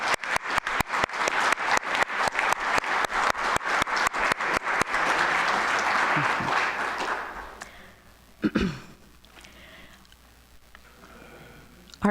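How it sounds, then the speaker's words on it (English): Rhythmic unison clapping from a church congregation at a new-member service, sharp regular beats for about five seconds that dissolve into scattered applause, then fade to near quiet with a brief rustle and thump. "I'd just like to give a round of applause."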